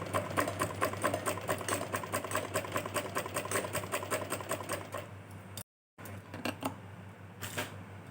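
A sewing machine stitches a blouse with a fast, rhythmic clatter for about five seconds. After a brief break it returns in shorter, uneven bursts.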